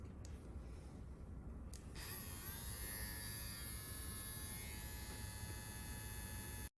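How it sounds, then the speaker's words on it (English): A wireless permanent makeup machine runs with a steady high electric buzz and hum, starting softly and then rising to a constant whine that continues close and alone until it cuts off at the end. "Now I'm going pretty fast with this machine, but you can still get pixels even if you go fast"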